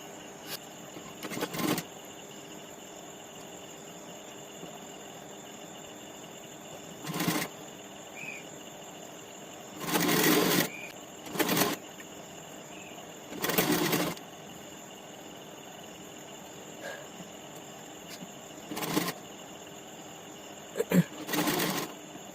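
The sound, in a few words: sewing machine stitching a Panjabi collar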